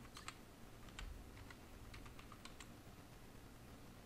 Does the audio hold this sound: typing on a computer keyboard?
yes